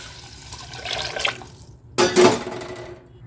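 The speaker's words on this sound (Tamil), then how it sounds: "4 கப்பு தண்ணி ஊற்றிடலாம்." Water pours briefly into a pot, a short splashing gush after a few quieter trickles, close by.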